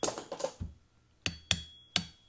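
Sharp metallic taps knocking a float pin out of the carburetor of a seized 1970 Honda CL100 motorcycle: a few quick clicks, then three distinct ringing hits spaced apart, close and clear with no talking.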